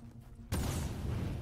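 After a quiet rumble, a sudden deep boom bursts in and rolls on as a loud, sustained roar, explosions in the video game The Division.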